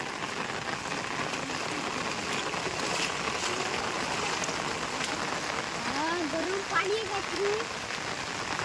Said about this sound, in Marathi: मंडळी पाऊस चालू आणि बघा वातावरण भन्नाट